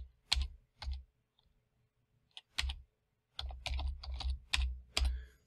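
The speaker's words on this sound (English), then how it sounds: "So I type in citizenship," Computer keyboard typing as a search term is entered: several quick bursts of close, crisp keystroke clicks separated by short pauses, then a denser run of keys near the end, with no voices.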